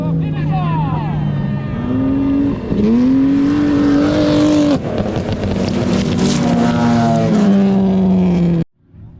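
Race cars at a racing event in Pakruojis, one yellow car smoking, drone loudly with steady, rising engine tones and revs that run almost nonstop, then cut off abruptly at the end.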